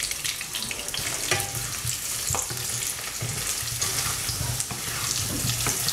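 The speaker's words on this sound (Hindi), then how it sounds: "इसमें डाल देंगे ये बॉयल किए हुए और प्रिक किए हुए आलू। इनको हम चला लेंगे और आलूओं को अच्छा गोल्डन ब्राउन होने तक हम कुक करेंगे" Boiled, pricked potatoes frying in oil with a bay leaf for dum aloo, a steady broadband sizzle with occasional stirring scrapes and clinks, close and continuous with no speech.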